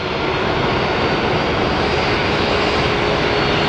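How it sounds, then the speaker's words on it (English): A Southwest airliner roars in on approach to land at Phoenix Sky Harbor, a loud, broad, steady engine rush that fills the whole moment without pause. "We have Southwest 2178 coming in from, it's either San Diego or San Antonio."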